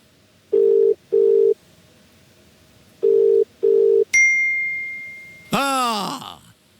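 A video call ringing tone: four short, steady electronic beeps in two pairs, followed by a sustained chime and a brighter sweeping jingle as the call connects, clear and alone without talk.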